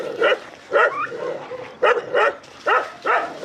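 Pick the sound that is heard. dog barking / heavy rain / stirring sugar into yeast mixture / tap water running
dog barking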